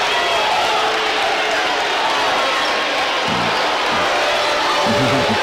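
A basketball arena crowd at a college men's game between UMES and Delaware State roars in sustained disapproval after a foul call, a dense, loud wash of booing and shouting throughout with a few bounces beneath.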